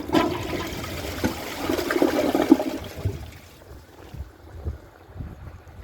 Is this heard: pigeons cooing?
no